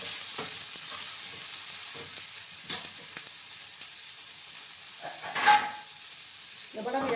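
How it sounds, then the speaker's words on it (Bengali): Tomatoes sizzle and hiss steadily in a pan with salt for a spicy potato and green pea curry, with occasional stirring scrapes and a brief louder clatter near the end. "টমেটোটাকে ভালো করে আমি ফ্রাই করব।"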